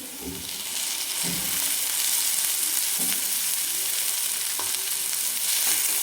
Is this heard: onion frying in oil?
yes